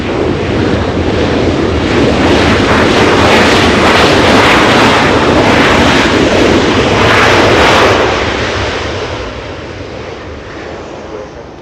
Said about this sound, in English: Southwest 1936, flying in from Salt Lake City. Correction, Kansas City.